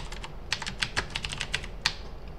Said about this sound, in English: To install it, we'll be just type this command Ionic Cordova